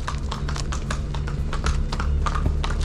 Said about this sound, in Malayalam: കുതിര കുതിര